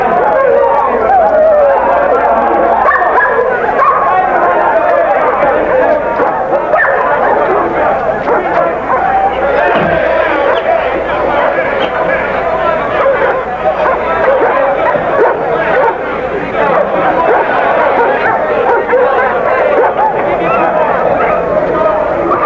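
Dogs at a varmint-killing contest bark, yip and whimper continuously in a loud, crowded scene from a 1979 film, with a crowd chattering and shouting all around.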